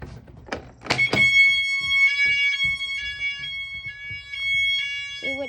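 A fire alarm goes off during a fire drill, with a few sharp thumps first and then a loud electronic tone that pulses on and off several times, close by, ending in a brief vocal sound.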